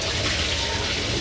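Water sprays in a steady broadband hiss from a weak spray fitting in the washroom of the Gaya–Howrah Express train, continuous and close throughout.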